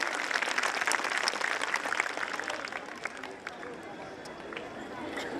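Audience applause at a school annual function, a dense wash of clapping from a large crowd that stays steady and fairly loud, with background chatter mixed in and easing slightly toward the end.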